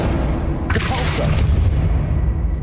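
A Depulso spell cast in Hogwarts Legacy bursts out as a single sharp, whooshing boom, rising over a steady, dense rumble of game background.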